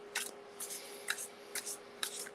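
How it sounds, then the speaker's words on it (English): Tarot cards shuffled by hand in a quiet room, giving five brief, faint riffling bursts spaced about half a second apart over a steady low hum. "I'm going to need to shuffle a little bit more for this one."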